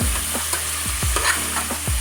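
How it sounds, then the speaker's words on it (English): Beef chunks browning in a pot for stew, a continuous hiss of sizzling fat close up, repeatedly broken by scraping stirs of a utensil against the pot bottom. "Now you can hear more of the sizzling going on"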